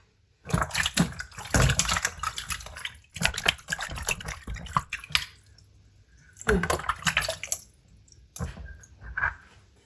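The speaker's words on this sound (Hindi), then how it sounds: "अब इस शलगम को भी अच्छी तरह धो लेंगे।" Turnips being washed by hand in a bowl of water in a home kitchen, with bursts of splashing, sloshing and dripping separated by short quiet pauses, close and with no one talking.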